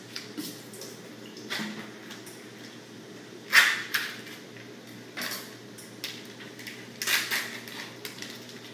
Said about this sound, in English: let's cut the tofu first